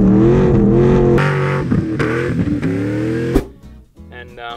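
A truck engine revs hard through a single 3.5-inch to twin 3-inch mandrel-bent 304 stainless steel exhaust, loud and close with several rising pulls, then cuts to a lower rumble at the end.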